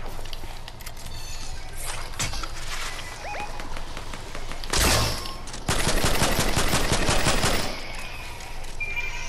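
Automatic gunfire in a Fortnite match rattles out in rapid bursts, with a sharp loud volley near the middle and a long sustained stream of shots after it, close and dense.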